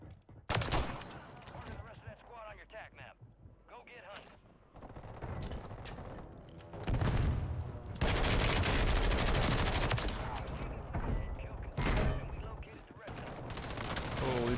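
Dense, loud automatic gunfire from a shaky CX-9 submachine gun in Warzone on Rebirth Island, sustained bursts and overlapping fusillades filling the clip, with a voice briefly talking under the shooting.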